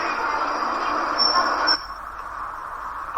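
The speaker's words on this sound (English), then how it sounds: "By subway." A subway train runs with a loud, steady rumble and a high whine or squeal that cuts off partway through, leaving a quieter drone.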